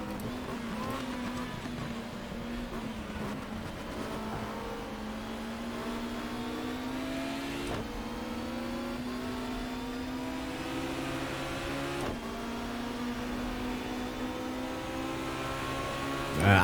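A race car engine in the GTR 2 racing game during a 1994 BTCC race at Brands Hatch Indy, a steady droning whine that climbs in pitch through the gears, with two sharp shifts and rising again, continuous and close.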